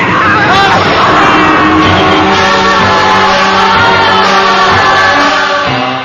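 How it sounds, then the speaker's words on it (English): Crowd shouting and bellowing in a radio drama of H.G. Wells' The First Men in the Moon, a dense, loud roar of many voices that stays steady throughout and tails off slightly at the end. "The crowd's giving way."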